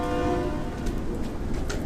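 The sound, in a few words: horn honk, likely a train horn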